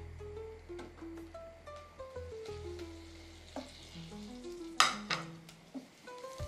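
Unsalted butter sizzles and crackles softly in a pot on the stove, with quiet scattered pops and a faint metallic clink near the end, no voices.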